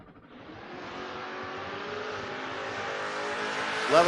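Drag racing Mustang and Challenger launch down the strip, a loud continuous engine roar building steadily over several seconds, with a brief sharp burst at the end and no talk.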